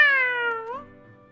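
A single clear cat meow in the visual novel Taisho x Alice, a close, loud, tonal cry that slides downward and then trails off, alone without talking.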